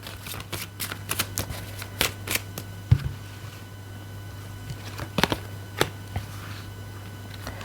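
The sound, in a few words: tarot cards being shuffled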